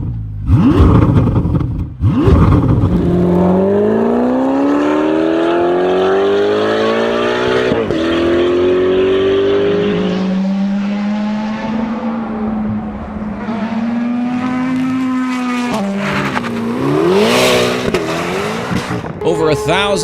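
A naturally aspirated track sports car engine revs hard toward 9,000 RPM, its loud rising whine climbing and dropping through gear changes, with tire squeal and a narrating voice over parts of it.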